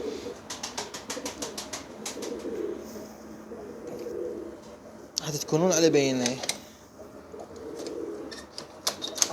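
Grey pigeons coo in a loft, a low burbling call rising clearly in the middle among softer rustles and wing taps, while someone talks over most of it.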